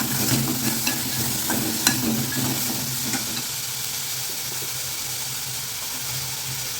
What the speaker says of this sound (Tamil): இதெல்லாம் நல்லா வதக்கி எடுத்துக்கலாம்.